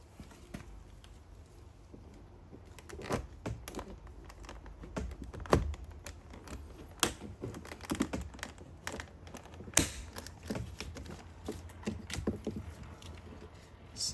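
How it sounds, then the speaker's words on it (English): Plastic trim tool prying at a 2015 BMW 2 Series F45 rear door card, giving a run of sharp clicks and snaps from the clips letting go, close and fairly quiet, with no talking. "I'm gonna get that panel out with the plastic prying tool."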